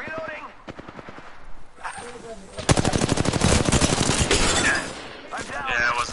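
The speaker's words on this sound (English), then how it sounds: "Shots fired and they're hitting me." Rapid automatic gunfire in the battle royale game Apex Legends rattles in dense bursts, loud and close, with players talking over and between the shots.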